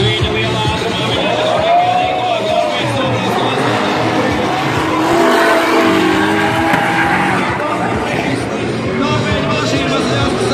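Drift cars race at high speed through a drift final, their engines roaring and whining continuously, with tires likely squealing, under steady crowd noise and an excited voice talking throughout.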